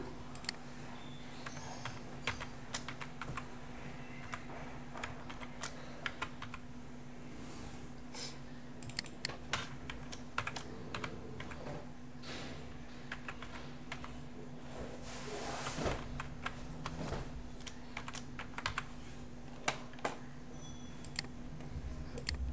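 Text is typed on a computer keyboard during a graphic design class, a steady stream of fast, fairly faint key clicks with irregular bursts over a constant low electrical hum, close and without talk.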